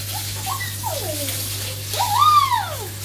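A wet floor is swept with water, making a splashy wash broken by a few rising and falling squeaky scrapes from the broom or squeegee, close and fairly loud.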